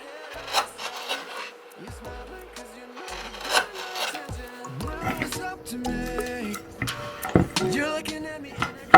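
Hand-carving a camphor wood serving tray, with close, irregular scraping and rasping of a carving tool on wood, interspersed with light knocks and ticks, moderate loudness and no talk.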